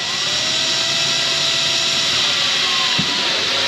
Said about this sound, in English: we've got some nice holes drilled into the bottom of this storage case